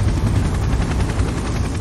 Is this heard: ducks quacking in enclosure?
no